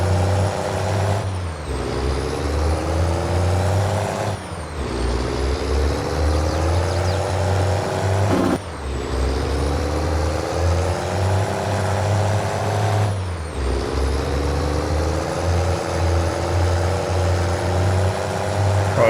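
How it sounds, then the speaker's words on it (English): A truck in Farming Simulator 22 drives with a loud, steady engine drone that drops away at regular gear shifts, each followed by a short air-brake hiss and the engine rising again, over four cycles. "This truck sounds good."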